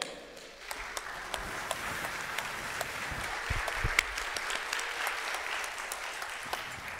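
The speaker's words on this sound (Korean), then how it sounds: "한번 박수 칠까요?" Steady applause from a church congregation at a 40th anniversary thanksgiving service fills the room evenly and at moderate distance, with no talk over it.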